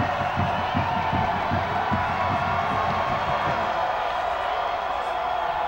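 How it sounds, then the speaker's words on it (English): A football stadium crowd at a 2009 PSAC state game between Shippensburg and California roars in a steady, wide wash of cheering, with a commentator's voice over the top. "This crowd coming to life again."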